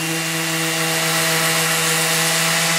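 A DWT EX-125 electric sander runs steadily at full speed, its motor giving a close, continuous whine with a droning hum underneath and no pauses or speech.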